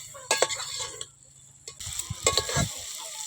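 A spoon scrapes and stirs through country chicken curry in a pan, making irregular close clinks and scrapes over a soft sizzle, with a quieter pause midway before the stirring picks up again.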